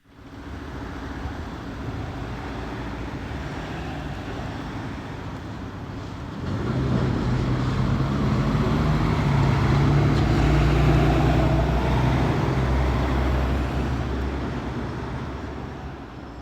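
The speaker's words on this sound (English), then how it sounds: "That is some traffic on Main Street in Peabody on the way out to Salem, right outside the laundromat." Steady road traffic with trucks rumbling past on Main Street in Peabody heading toward Salem, outside a laundromat; a continuous wash of engines and tires that swells louder and deeper about halfway through as a heavy vehicle passes close by.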